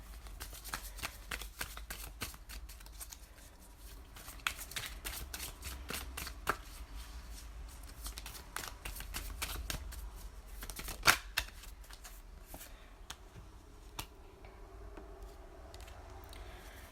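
Oracle cards are shuffled for a reading, a quiet run of rapid papery riffles and taps that come in irregular bursts, close to the listener with no talking.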